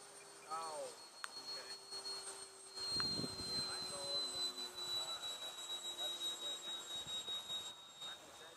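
An RC Flexjet F-16 model jet flies at a distance with a faint, thin whine rising and falling in pitch, while people talk nearby over soft outdoor background noise.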